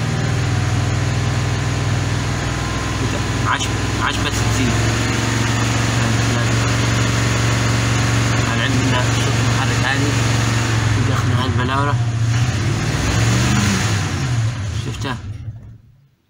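A car engine with a shaking, vibrating running condition and weak torque idles steadily with a low rumble throughout, while someone talks over it before it cuts off at the end.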